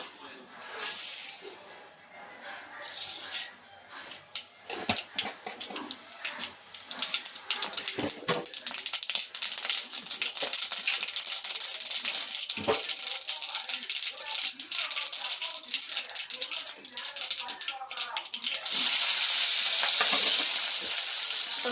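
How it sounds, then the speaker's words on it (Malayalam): Mustard seeds crackling and popping in hot coconut oil while a Kerala fish chammanthi is tempered, a dense close sizzle with rattling spatters that swells louder near the end as curry leaves go in, with a voice speaking over it. "കടുക് ഇട്ട് കൊടുക്കാവേ."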